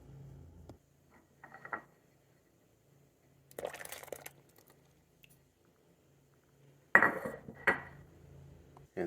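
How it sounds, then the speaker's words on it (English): Biscuit dough of butter and stevia being mixed in a bowl gives a few short scraping clinks and knocks of a utensil against the bowl, separated by quiet gaps, close and fairly faint. "start mixing our dough"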